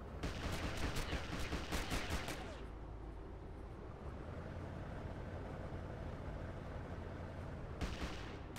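Rapid bursts of video game gunfire crackle loudly for the first couple of seconds, then give way to a steady rumbling background before another short burst near the end.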